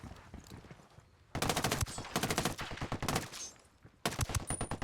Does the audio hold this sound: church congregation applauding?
no